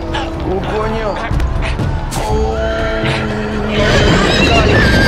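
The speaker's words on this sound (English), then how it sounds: "¡Mira, caballo! ¡Cago en la puta! ¡Me pisa el caballo!" A horse in the Game of Thrones Telltale video game whinnies loudly several times with clopping hooves, under excited shouting from a player.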